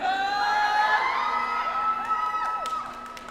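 An audience at the Japan Expo convention shouts and whoops together as a dense crowd of mostly high-pitched voices, loud at first and fading slightly toward the end.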